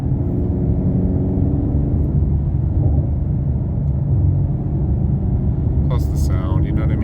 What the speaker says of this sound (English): It's all V8 sound.